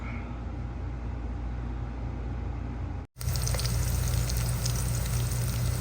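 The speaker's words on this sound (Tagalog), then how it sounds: "ginigisa ko na po ang ating bawang, ang ating sibuyas at ang ating luya" Garlic, onion and ginger sauté in a pan, making a continuous frying sizzle that cuts out briefly midway and then resumes, slightly brighter and louder.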